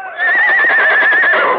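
A horse neighs loudly in a long, wavering whinny in an old Lone Ranger radio drama, with hoofbeats in the background as the horse leaps forward carrying two riders.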